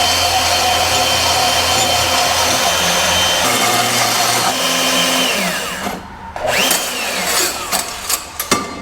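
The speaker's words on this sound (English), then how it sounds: "we're going to cut most of it on the bandsaw" A bandsaw cuts through metal with a continuous loud grinding whir that fades near the end, followed by a few sharp clanks and knocks.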